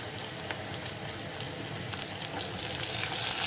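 Onions frying in oil with green chillies and curry leaves just added, a steady close sizzle with faint crackles, growing slightly louder toward the end.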